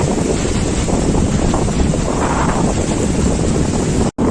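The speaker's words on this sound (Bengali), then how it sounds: "সঙ্গে এই ফেনীল জলরাশি পা আমাদের একদম ভিজিয়ে দিচ্ছে।" Foamy surf washes in over bare feet at Tajpur beach, a loud continuous rush heavily buffeted by wind noise on the microphone, steady throughout with one brief dropout near the end.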